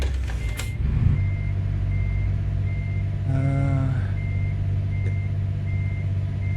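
Reversing alarm of a Renault truck in Euro Truck Simulator 2 on the Nordic Horizons map, a steady train of evenly spaced beeps over a low idling engine rumble, with a brief louder mechanical burst near the middle.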